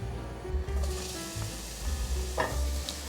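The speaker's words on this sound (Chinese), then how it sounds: "先把酪梨和奶油炒至融合。" Avocado and vegan butter being stir-fried together in a pan, a continuous close sizzle with scraping stirring sounds and no talking.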